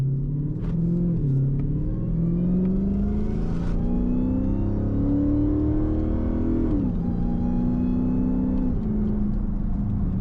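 Cammed, supercharged 700-plus horsepower Dodge Charger Hellcat accelerating from inside the cabin, a loud continuous rumbling engine note rising in pitch, dipping at a shift, then climbing again with no talk.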